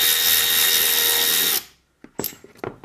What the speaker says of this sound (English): I'm going to use an electric wrench just to whiz it out